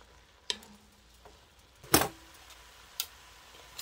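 Cabbage stew ingredients being stirred in a pot, with a few sharp scraping clacks spaced through a quiet stretch and one louder sizzling scrape near the middle.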